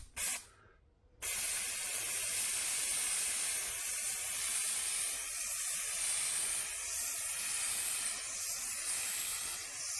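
A spray paint can hisses steadily onto interior trim pieces for a 1978 El Camino SS, a brief burst at the start followed by a long, continuous close-up spray.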